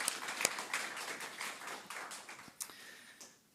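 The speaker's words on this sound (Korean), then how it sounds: "우리 박수 한번 쳐주겠습니다" Quiet, scattered hand clapping from a church congregation during a Sunday service, a few sharp claps standing out before it fades within a few seconds.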